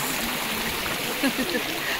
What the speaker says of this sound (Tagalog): May batis. Sarap sa batis.